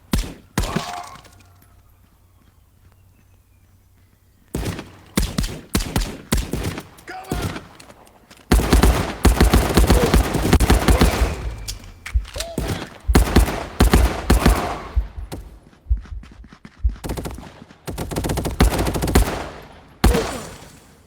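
Rapid bursts of gunfire in the VR shooter Contractors VR, survival mode: a quiet lead-in, then repeated loud volleys and clusters of shots with short pauses, mixed with clanks and impacts through the remainder.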